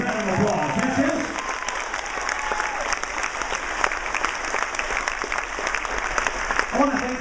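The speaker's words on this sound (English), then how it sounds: "Give them a huge, huge round of applause" A cruise ship show audience gives a big round of applause to hypnosis volunteers, sustained crowd clapping with a voice cheering briefly at the start and again near the end.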